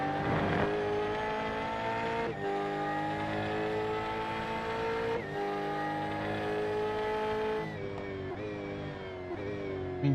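Race car engine in a sim racing game on the V8 Veterans series at Watkins Glen, loud and steady, with harmonic engine tones that dip and rise as the car brakes hard and downshifts, then revs again.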